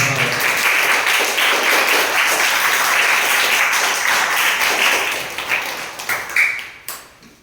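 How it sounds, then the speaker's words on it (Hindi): Loud applause in a school assembly hall, dense continuous clapping that holds strong for several seconds, then thins into scattered individual claps and fades out near the end. "हमेशा की तरह आप जोरदार तालियों से इसका स्वागत।"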